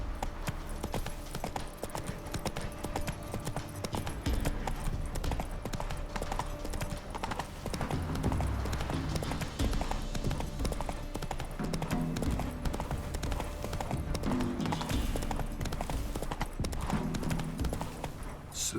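Roach, the horse in The Witcher 3, galloping with a continuous rapid clip-clop of hooves over steady game ambience, close and loud throughout.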